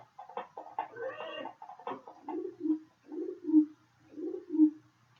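A pigeon coos close by, a series of soft, low, throaty warbles repeated in a steady rhythm, preceded by a few quick flutters and calls.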